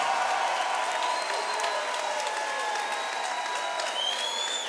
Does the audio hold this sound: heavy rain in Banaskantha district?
no